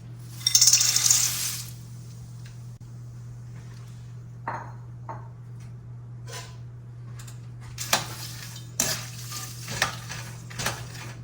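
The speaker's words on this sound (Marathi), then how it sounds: "मी यात डाळ आणि शेंगदाणे एक एक करून सगळं टाकून तळून घेते" Peanuts and dal drop into hot oil for chivda with a loud burst of sizzling, then intermittent clinks and scrapes of a spoon against the pan and quieter frying, all close by.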